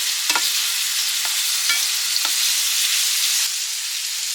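Smash burgers frying in a pot alongside onions and other ingredients, giving a steady loud sizzle with a few brief scraping stirs mixed in.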